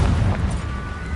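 A Confringo explosion spell from the game Hogwarts Legacy goes off as a loud, heavy blast with a deep rumbling boom that fills the whole moment.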